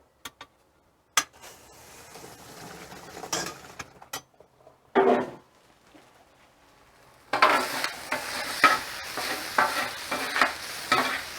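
Pork sizzles and fries in a pan, with scraping spatula strokes and clicks: sparse and quiet at first, then a sustained, louder crackling sizzle with repeated stirring scrapes for the last few seconds.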